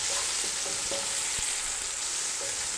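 A large onion sautéing in oil for chicken pulao, a constant close hiss of frying with a few faint clicks, no voices.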